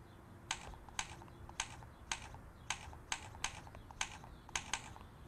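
Light taps on an Apple Newton's on-screen keyboard, about ten crisp, evenly spaced clicks over a few seconds, close and clear against a quiet background with no voices.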